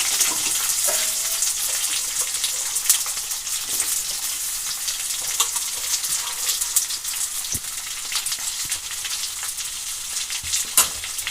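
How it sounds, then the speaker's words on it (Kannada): Onions and green chilies fry in oil for a fenugreek palya, giving a steady close sizzle with scattered sharp crackles and pops throughout, no voices. "ಈಗೆಲ್ಲ ಎಣ್ಣೆಲಿ ಚೆನ್ನಾಗಿ ಫ್ರೈ ಮಾಡ್ಕೊಳೋಣ ಹಸಿಮೆಣ್ಸಿನ್ಕಾಯಿ ಈರುಳ್ಳಿ ಎಲ್ಲ ಹಾಕಿರೋದೆಲ್ಲ"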